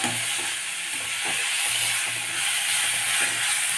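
Chopped tomato sizzles and fries steadily in a pan for a Tamil-style ivy gourd (kovakkai) curry, a continuous close hiss with faint stirring clatter and no talk.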